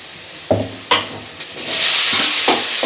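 Tomatoes sauté in a pan for curry leaf kuzhambu, a close sizzle and hiss broken by a few sharp stirring scrapes of the spoon.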